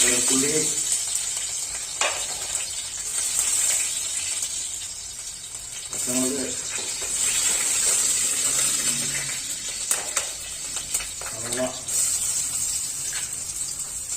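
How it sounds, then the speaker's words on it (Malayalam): Mustard seeds splutter in hot coconut oil for a Kerala mackerel curry: a continuous close sizzle broken by scattered sharp pops, with occasional talk. "മീൻകറിക്ക് കടുക് പൊട്ടിക്കുന്നവരുണ്ട് ഗൈസ്."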